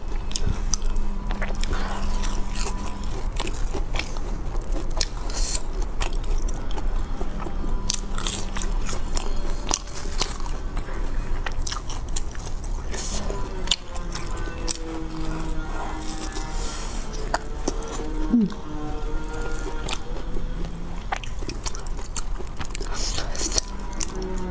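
Close-miked bites into a lava rice cake with hot brown sugar filling, soft sticky chewing and wet mouth sounds repeating steadily, with occasional light clinks of cutlery or a dish.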